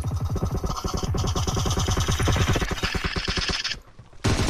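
Rapid automatic gunfire from the mobile battle-royale game PUBG Mobile runs as a dense, loud, steady burst of shots for several seconds, then breaks off briefly before resuming.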